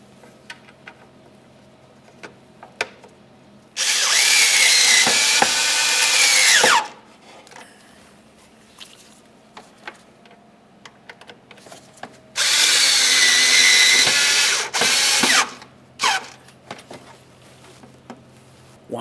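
A power drill runs in two loud bursts of about three seconds each, tightening the fog light mounting bolts on a 2003-2011 Mercury Grand Marquis, with a clicking quiet gap between them and no talk.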